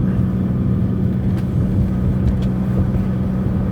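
A BMW E39 with an M54 inline-six cruising, heard through an open window as a steady, loud low engine drone and road rumble with a few faint ticks, no talking.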